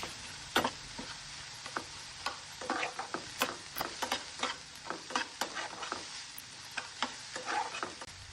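Green chillies and ginger-garlic paste frying in a pan, a soft steady sizzle broken by repeated close clicks and scrapes of a spoon stirring, with no voices.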